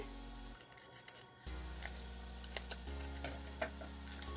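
Scissors cutting the side of a diamond painting supply packet, heard up close as several quiet, sharp snips in an irregular rhythm against a faint background hum.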